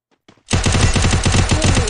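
Rapid automatic gunfire from the video game Free Fire erupts after a brief quiet start, a loud, steady burst of repeated shots continuing to the end.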